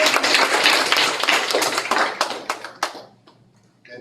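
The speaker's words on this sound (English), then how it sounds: "Give a round of applause." Audience applause at a school district board meeting, dense steady clapping from a room of people that holds for about three seconds and then thins out to a few scattered claps.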